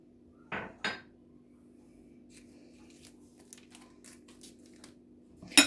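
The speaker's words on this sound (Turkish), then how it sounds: "Hepsini karıştırıyorum." A utensil clinks against a bowl while cake batter with milk and cocoa is mixed for a cocoa banana cake: two sharp knocks near the start, faint scraping ticks, then a final clink, with no talking.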